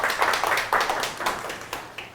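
A small audience at a lecture on Western music history claps briefly, a few rhythmic, moderately loud bursts spaced about half a second apart.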